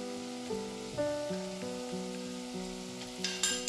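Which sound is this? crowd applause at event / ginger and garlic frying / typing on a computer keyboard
ginger and garlic frying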